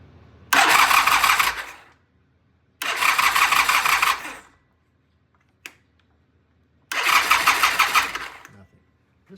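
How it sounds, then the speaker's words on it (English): A 1974 Norton motorcycle engine is cranked three times, each burst of loud, close churning lasting one to two seconds, with quiet gaps and a brief click between the second and third attempts. "Let's try a choke, just for grins. Whoa, it wants to start."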